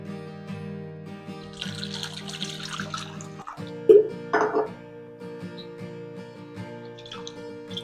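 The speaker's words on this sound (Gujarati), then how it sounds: "બે થી 3 વખત આપણે આવી રીતે પાણીથી ધોઈ લેવાની." Raw mangoes are washed in water with soft splashing and dripping over a low steady background, and a brief louder splash comes near the middle.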